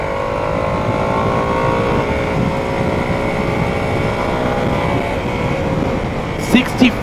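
A Harley-Davidson Sportster S motorcycle engine drones loudly and steadily at high speed in second gear, its tone edging upward under heavy wind buffeting on the microphone.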